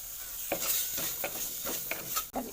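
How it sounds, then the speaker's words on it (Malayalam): Chopped tomatoes frying in a hot pan, a bright continuous sizzle with a spatula stirring and scraping at a steady pace about every half second, close and without talk. "ഇനി നമുക്കതിലേക്ക് തക്കാളിയാണ് ഇട്ട് കൊടുക്കുന്നത്"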